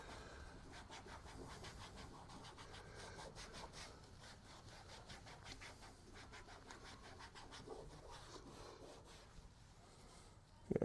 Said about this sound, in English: Let's wipe it off.